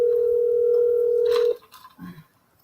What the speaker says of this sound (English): Calling Rita and asking her what the hell's going on